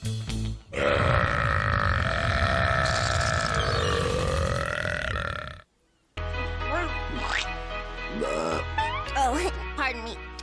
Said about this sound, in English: your burps are like the sweetest